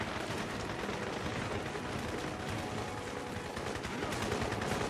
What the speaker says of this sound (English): Why are they just shooting randomly here?